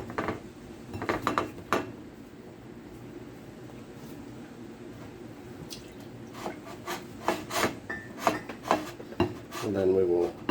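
A knife saws through sourdough English muffins in a kitchen with a grill pan nearby, giving a series of rough scraping strokes in uneven bursts, some close and crisp, with quieter rustling between them.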